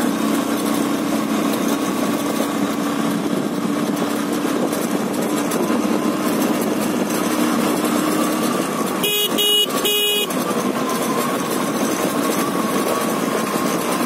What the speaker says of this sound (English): Honking is very important.